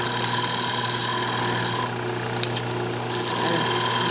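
A wood lathe turns a two-part vase while a tool cuts a shallow recess into its back, giving a steady, close motor hum with continuous cutting noise throughout and a brief dip near the middle.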